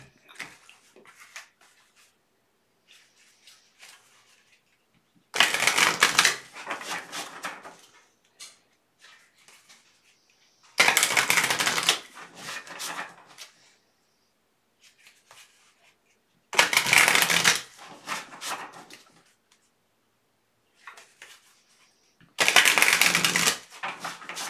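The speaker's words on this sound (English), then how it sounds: "So let me get these cards shuffled and see what the spirit want us to know." Tarot cards are riffle-shuffled in four loud, crisp bursts spaced several seconds apart, with faint shuffling and handling between them.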